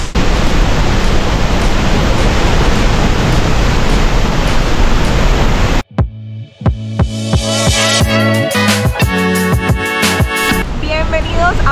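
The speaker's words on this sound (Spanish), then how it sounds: "Hoy los saludo desde el Salto de Candela, una de las cascadas más altas de Colombia" The Salto de Candela waterfall in Boyacá, Colombia roars as a dense, loud, constant rush for about six seconds, then cuts to a quieter stretch with clicks, tones and a voice.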